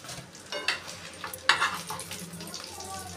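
Paneer paturi frying in a pan gives a soft, continuous sizzle, with a few sharp scraping clinks of a utensil near the start and middle, close and moderately quiet.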